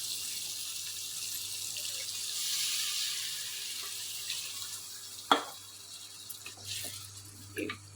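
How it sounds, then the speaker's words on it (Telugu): Water pours steadily into a pan of frying prawns with raw mango, a soft continuous splash with a faint sizzle beneath and a few small knocks near the end. "దీంట్లో కొంచెం వాటర్ పోసుకుందాం"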